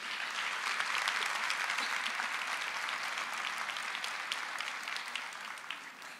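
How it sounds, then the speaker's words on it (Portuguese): Congregation in a church gives a sustained round of applause to the Lord, dense and steady clapping throughout, fairly loud and even, tapering slightly toward the end with no talk over it. "Vamos aplaudir ao Senhor."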